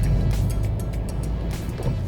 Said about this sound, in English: But as the revs build up